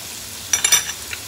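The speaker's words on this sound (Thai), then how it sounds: "ผัดรวมกันให้มีกลิ่นหอมนะคะ" Garlic, coriander root, crushed black pepper, sliced ginger and shiitake mushrooms stir-fried in rendered pork fat, heard as a few short, bright sizzling bursts of stirring in a quiet kitchen.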